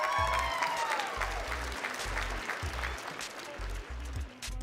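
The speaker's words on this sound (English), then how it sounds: "Give her some hand clap." A small group claps for about five seconds, the applause fairly close and steady, with a rhythmic low thumping beat running underneath and faint voices in the background.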